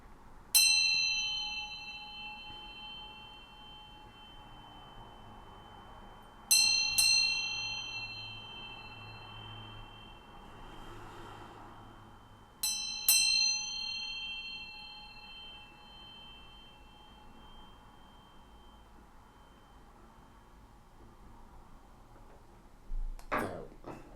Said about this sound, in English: I'm going to ring this bell to bring in some good vibes in here